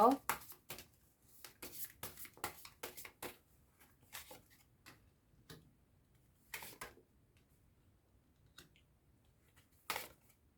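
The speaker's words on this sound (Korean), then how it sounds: "주별 자세한 조언의 메시지 카드 뽑아보도록 할게요" Oracle message cards being shuffled and drawn by hand, a series of quick, close, dry card snaps and riffles in short bursts separated by quiet pauses, with no one talking.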